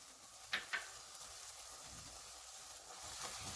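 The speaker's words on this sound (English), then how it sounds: "I'm adding the spices, ground spices." Ground spices frying and being stirred in hot oil for Dindigul Thalapakkatti-style veg biryani: a faint, steady sizzle with a couple of soft scraping stir sounds early on, no talk.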